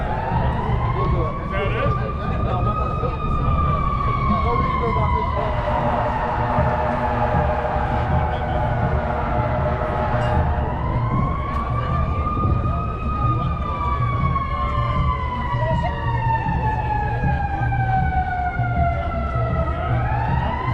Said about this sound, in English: My daughter always embarrasses me when she puts on the siren to pick me up.